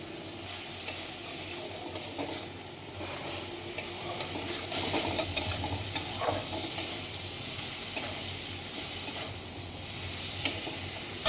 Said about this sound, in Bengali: এবারে মশলাটা ভাজা ভাজা হয়ে গেছে তেল বেরিয়ে গেছে